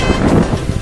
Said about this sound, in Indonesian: Suara angin sangat keras sekali